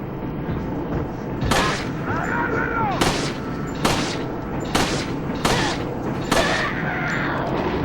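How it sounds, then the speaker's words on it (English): Incendiary grenade going off in Resident Evil 4, a series of sharp, loud blasts about every second over steady game ambience, with a burning, crackling texture between hits. "Incendiary grenade"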